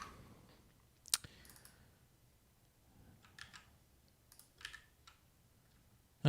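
Keys tapping on a computer keyboard, quiet and irregular, with a sharper click early on and scattered soft bursts of keystrokes over a low background hum.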